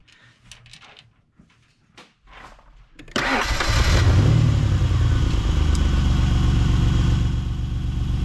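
Several clicks and short cranking sounds, then a 1995 Explorer's engine abruptly fires up and settles into a loud, steady running rumble.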